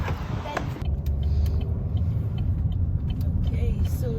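A car drives along a road in Canada, its steady low rumble and road noise heard from inside the cabin, continuous and fairly loud, with a few faint clicks and people talking over it.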